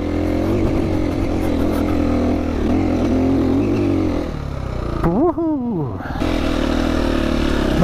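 An enduro motorcycle rides off-road in Spain, its engine loud and close with a constant throbbing drone and one sharp rev that rises and falls in pitch.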